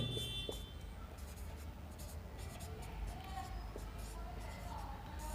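Chalk or marker scratching on a classroom board as a teacher writes a point during a Hindi-language history lesson, a steady low scraping under faint room noise, with no clear talk.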